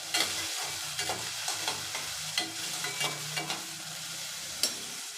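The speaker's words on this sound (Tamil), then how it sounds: "வெங்காயத்தை நல்லா வதக்கி விட்டுருங்க." Finely chopped onions sizzle and crackle steadily in hot oil for bitter gourd tamarind curry, with occasional sharp scrapes and clinks of a spoon stirring the pan close by.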